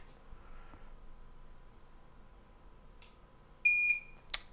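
Soldering iron powered from a power station giving a short, clear electronic beep as it reaches temperature, sounding close in an otherwise quiet room, followed by a couple of brief clicks.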